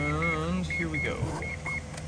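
A 1997 Mazda RX-7 FD RS-R rotary engine cranks and fires into life after a rinse, a whirring starter and rising engine tone close by, with short electronic chime beeps repeating over it.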